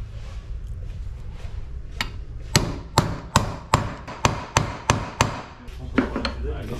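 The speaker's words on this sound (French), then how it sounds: "Il faut un gros marteau." Heavy hammer blows striking metal while a Bosch Gen 2 e-bike motor is serviced to replace its casing and bearings: about nine sharp, evenly spaced close whacks in a row, with a few more scattered after, over quiet workshop background.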